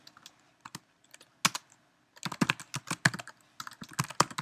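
Quick bursts of computer keyboard typing during a coding session, clicking in irregular clusters of keystrokes with short pauses, close and clear with no talking.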